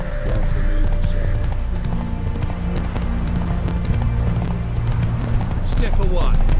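Roach, a horse in The Witcher 3, gallops steadily with rapid rhythmic clip-clop hoofbeats, loud and close, over continuous game ambience, with a brief whinny-like sound near the end.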